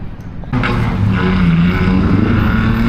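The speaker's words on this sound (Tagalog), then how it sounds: "Ayan na yung mga sasakyan kung naririnig nyo." Cars pass on a street in Osaka near Dotonbori. Close, steady traffic engine noise swells after a short quieter start and continues without pause.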